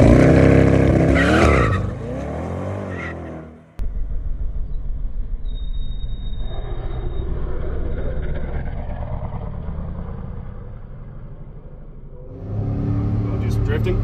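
A 2024 Chevrolet Corvette E-Ray hybrid AWD launches with brief tire skid, its engine roaring up loudly before a cut, then a steady drone of acceleration under a voice, rising again near the end.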